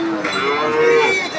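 Cattle mooing at a livestock market in East Java, one long sustained low moo rising and holding steady over a busy market background, fairly close and loud.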